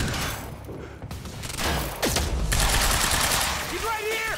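Heavy automatic gunfire from enemies in a firefight in Quantum Break, loud and continuous bursts with a whooshing sweep midway, and voices speaking over the shooting near the end.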